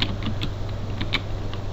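Typing on a computer keyboard, a quick run of light, irregular key clicks close by over a steady low hum, without speech.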